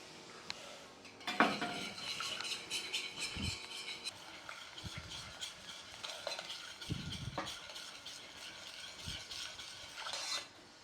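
A utensil stirs sugar into orange juice and vinegar in a pan, with scraping and clinking against the metal and a soft sizzle from the reducing liquid, moderately close and with no talk.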